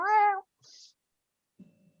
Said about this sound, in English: This is where the cat starts saying,